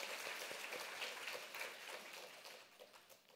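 A church congregation applauding during a Sunday service, a dense faint patter of many hands clapping that holds steady and then tapers off at the end.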